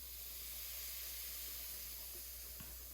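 Apple cider vinegar fizzing and sizzling on baking soda worked into hair, a soft steady hiss close to the ear running evenly for the whole stretch with a faint click near the end.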